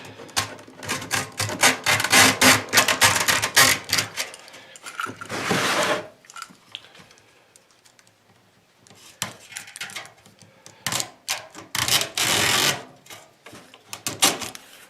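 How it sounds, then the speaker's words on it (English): Utility knife drawn along the edge of aluminum window screen, giving repeated close scraping, rasping strokes in bursts with short pauses. "just run your utility knife down the edge"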